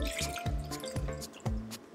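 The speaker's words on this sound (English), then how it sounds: "now we just pour the rest of our sangria to your glass" White sangria being poured into a glass, heard as a run of close, distinct drips and splashes falling in an irregular rhythm with no talking.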